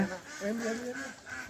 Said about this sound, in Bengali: এই যে হাঁস আসতেছে, হাঁস।